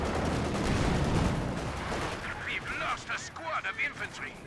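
A grenade blast rumbles in a WWII strategy video game, followed by scattered battle noise while a commentator talks over it.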